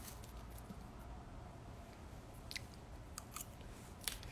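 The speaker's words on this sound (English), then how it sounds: "Let me eat my hummus." Someone chews hummus with kebab, giving quiet, close, moist mouth clicks and a few sharper crunchy bites scattered over a few seconds, without talk.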